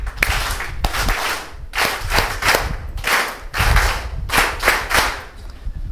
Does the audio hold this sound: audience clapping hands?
yes